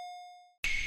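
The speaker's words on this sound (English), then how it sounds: "Doorbell rings." A single clear electronic doorbell ding rings out and slowly fades, followed abruptly by a burst of bright noise.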